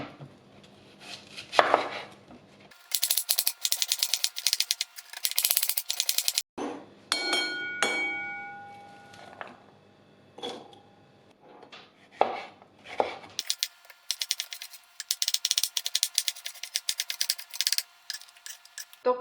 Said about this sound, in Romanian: Acum tocăm ceapa și ardeiul.